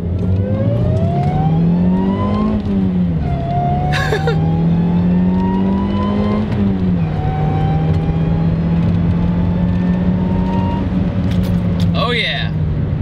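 A supercharged Honda CR-Z pulls hard at full throttle, its engine note climbing steadily through several gears with brief dips at each shift, loud and continuous from inside the cabin.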